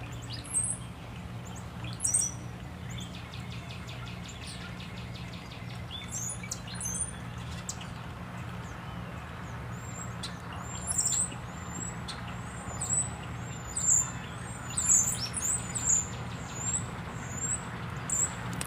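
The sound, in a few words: many birds calling in the bamboo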